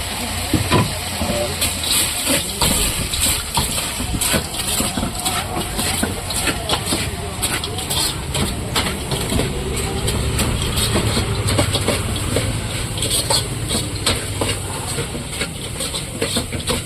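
Chicken chilli parotta being stir-fried on a street cart griddle, a loud steady hiss and sizzle with frequent metallic spatula clanks over busy street noise.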